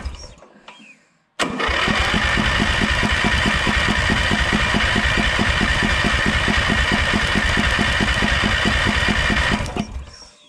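An old small engine, freshly cleaned carburetor, starts abruptly and runs steadily with a loud, even rhythmic chug for about eight seconds before being cut off by the kill switch; brief voices are heard before it starts.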